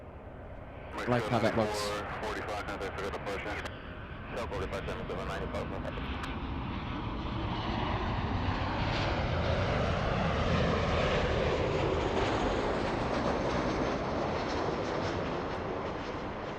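A passenger airliner takes off at LAX, its engine roar building into a long, loud, sustained rumble that fills the scene; someone speaks briefly near the start.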